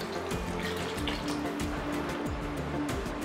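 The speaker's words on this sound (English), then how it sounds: "Now we'll add water to this." Water poured into a pan of Malwani crab curry masala in a home kitchen, a steady close splashing and trickling fill that runs continuously without talking.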